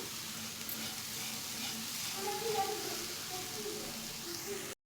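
Banana filling stirred with sugar in a hot pan, a soft, steady sizzle with faint scraping of stirring, quiet and close, with some voice underneath.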